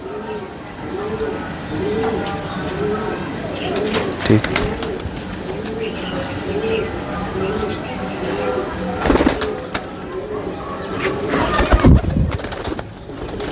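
Home-bred fancy pigeons coo in repeated rhythmic phrases close by, with someone talking over them and occasional rustles and clatters.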